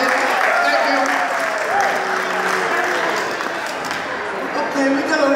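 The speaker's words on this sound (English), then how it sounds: "Give my man a big round of applause," Loud audience applause at a magician's stage show, full and sustained with crowd noise mixed in, briefly dipping in the middle before swelling again.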